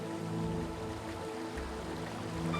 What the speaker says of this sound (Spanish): está enclavada esta cascada del río Cupaticio con una caída de 40 metros de altura